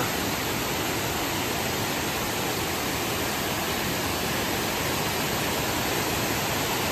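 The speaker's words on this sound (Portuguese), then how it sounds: "Olha o tamanho dessa cascata." Cachoeira do Fraga, a large waterfall cascade near Rio de Contas in Brazil, roars as a dense, unbroken wash of rushing water, loud and steady throughout with no voices over it.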